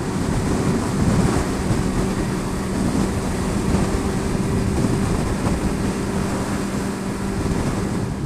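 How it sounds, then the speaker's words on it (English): Strong wind roars steadily over a rider on a Yamaha XJ6F motorcycle, a loud, continuous buffeting rush with a faint engine hum beneath and no speech. "the wind is really getting up now"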